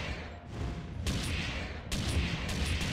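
A gun fires in the VR game Oblivion Tesseract, two loud bursts of blasting, like a shotgun, over a dense background of game noise.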